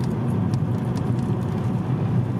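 A Toyota Avensis engine hums steadily from inside the cabin as the car speeds up on its own with cruise control engaged, a continuous low drone with road and wind noise.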